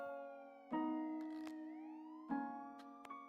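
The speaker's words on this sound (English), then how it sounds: "Who activated the sirens?" Short bursts of an electronic siren, two wailing blasts each sweeping upward and then settling, fairly faint and standing alone without talk.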